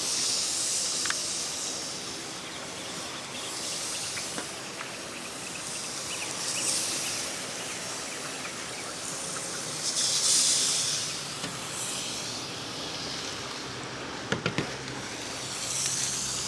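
Picanha steaks laid onto a hot Yoder Smokers El Dorado Santa Maria grill, a faint steady sizzle and hiss swelling in soft bursts as the meat goes down, with a few light metallic clinks near the end.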